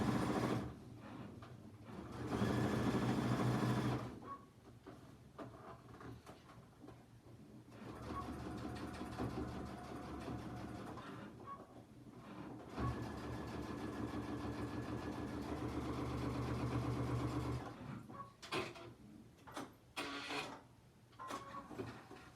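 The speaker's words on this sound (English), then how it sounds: "I'm going to go ahead and top stitch across this top." A sewing machine top-stitches across the top of a zippy clutch, its steady mechanical whir running in bursts of several seconds with short pauses between, close and fairly quiet, with no talking.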